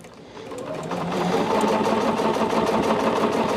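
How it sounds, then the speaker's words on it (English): A Bernina sewing machine fitted with foot 37D stitches through fabric on fusible grid in a fast, even mechanical whir that starts softer and holds steady and close, with no voices. "for a Bernina person, this is 37D"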